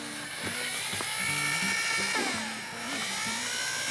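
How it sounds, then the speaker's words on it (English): Steady high-pitched whine of a power drill with a mixer paddle churning thick mortar, the pitch wavering as the load shifts, close and loud. "Just a mixer on the end of a drill right here."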